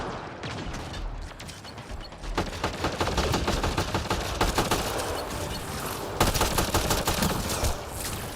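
Rapid, dense bursts of gunfire, including sniper shots, crackle through a firefight in the video game Mass Effect: Andromeda, loud and close. The volleys build and continue almost without a break.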